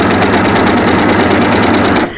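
An overlocker runs fast and steady as fabric is eased around corners, a loud, close, rapid mechanical whirr that cuts off just before the end.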